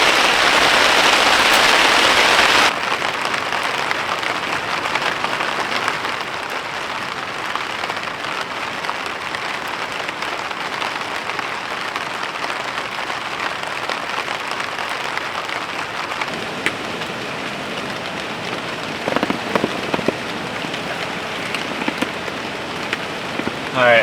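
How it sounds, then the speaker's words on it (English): Heavy rain drums loudly and continuously on a hot tent in a forest, a dense close patter that barely lets up, with a few sharper drips near the end. "It is raining, crazy rain right now"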